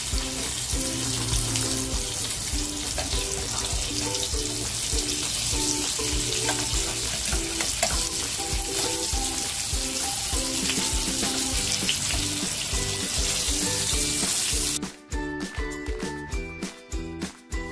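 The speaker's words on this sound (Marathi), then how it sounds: "अगोदर एक बाजू छान फ्राय झाली आहे, पलटी करून घेते।" Halwa fish (pomfret) sizzling as it fries in a pan, a loud continuous crackle for most of the clip, then clattering handling sounds near the end as it is turned.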